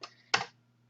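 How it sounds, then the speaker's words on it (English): Keystrokes on a computer keyboard as a web address is typed, a light click near the start and a sharper, louder clack around a third of a second in, then a low steady hum with no further keys. "go up here to the address bar and type in"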